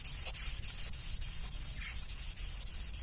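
A Honda Civic Genio engine part is sanded by hand with 400-grit sandpaper, close rhythmic scratchy strokes about three per second, loud and alone.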